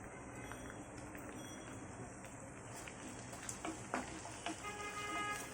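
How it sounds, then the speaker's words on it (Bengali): Onion and garlic paste fries in a pan for a fish curry, producing a soft continuous sizzle with occasional light clinks of stirring, close and fairly quiet, with no voices. "এখন এগুলোকে কষিয়ে নেব যতক্ষণ পর্যন্ত না পেঁয়াজ আর রসুনের কাঁচা গন্ধটা চলে যায়"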